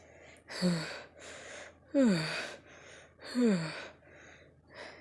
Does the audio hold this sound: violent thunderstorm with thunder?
no